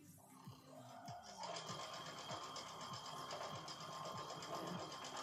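A sewing machine stitches large fabric strips fed in gently by hand, its steady whirring hum and rhythmic needle clicks starting after a quiet first second and running close and continuous to the end.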